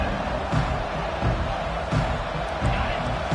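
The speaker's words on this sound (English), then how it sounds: "This crowd bringing an ear-splitting welcome to their visitors." A packed stadium crowd at a college football game roars loudly, a dense, unbroken wall of cheering that swells in places throughout.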